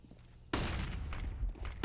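Gunfire from a Counter-Strike esports match erupts suddenly after a quiet moment, a dense burst of loud shots that keeps rattling, with a few sharper cracks standing out near the end.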